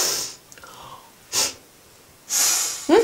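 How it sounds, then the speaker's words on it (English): Sharp nasal sniffs made to show disapproval, several short airy bursts spaced apart with quiet gaps between, close to the listener. "How do I show disapproval? Easy. You sniff."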